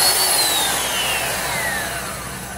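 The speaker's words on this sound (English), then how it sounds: "Just stepped up to the 100 grit sandpaper on my belt sander" A belt sander fitted with 100 grit sandpaper sands a wooden cutting board, giving a loud, continuous, close-up hissing roar with a slowly falling whine that eases slightly toward the end, with no talk.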